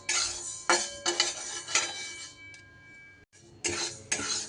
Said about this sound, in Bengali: ডালটা একটু এইভাবে লাল লাল করে ভেজে নিতে হবে